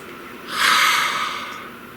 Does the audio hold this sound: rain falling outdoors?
no